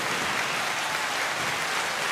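Applause sound effect played during a bowling tournament stream, a dense, even wash of clapping that holds at constant loudness with no voices over it.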